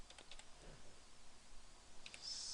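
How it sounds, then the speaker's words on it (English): Someone types a command into a computer terminal, giving faint, quick keyboard clicks in a short, uneven burst over a quiet room background. "we're going to type in"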